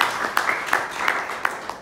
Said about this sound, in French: On va encore les applaudir